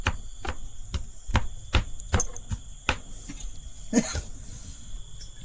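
A knife chops curry leaves on a board for homemade atta chowmein, about a dozen sharp, evenly spaced close taps with a slight scrape near the end, no talking.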